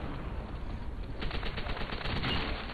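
Rapid gunfire in Call of Duty: World at War rattles in a dense, continuous stream of shots over loud background noise, close and steady throughout, with no voices.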